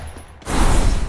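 A shotgun blast fires in a battle royale shooter game, a sudden loud burst of gunfire following a short quiet stretch.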